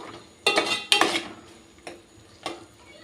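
Spices are stirred in oil in a cooking pan for chicken gravy, with a few scraping, clinking strokes of a utensil against the pan at irregular intervals, close and fairly clear, with no talking.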